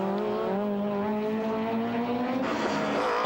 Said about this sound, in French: En tête, Patrick Herbert et Éric Quérol continuent leur lutte à couteau tiré pour la première place.